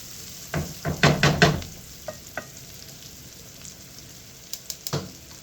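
Olive oil crackling in a pan as food cooks, a few bursts of sizzle and stirring clustered early, then sparse pops and spits fading into a quiet hiss.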